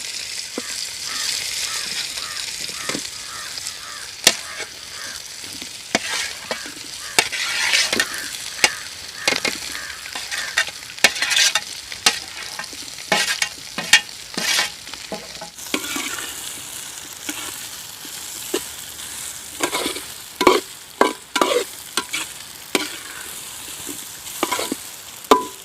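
Beef with chilli and onion frying in coconut oil in a pan, a continuous loud sizzle broken by frequent sharp scraping and stirring clatters, close up with no talking.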